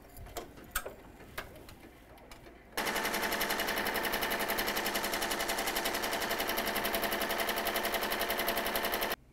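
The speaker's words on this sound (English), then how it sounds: "it's just gonna go ahead and stitch the rest of the shirt" An embroidery machine stitches the shirt of a stuffed toy in a fast, even mechanical rattle that runs loud and unbroken for several seconds. A few scattered clicks and handling taps come before it starts.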